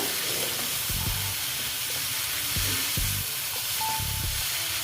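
Ghugni being sautéed in a pan sizzles steadily and close, with several distinct scraping spatula strokes spaced about a second apart over the continuous hiss.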